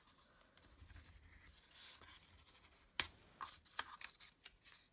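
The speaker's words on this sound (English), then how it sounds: "I'm just using my bone folder and getting in there." Paper hinges for a handmade envelope album creased with a bone folder, heard as soft close-up rubbing and scraping with one sharp snap partway through and several small scratchy strokes after it, quiet and with no talking.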